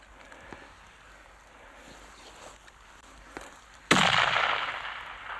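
A single loud hunting gunshot cracks out suddenly outdoors after a stretch of quiet wind noise, its blast trailing off in a decaying echo.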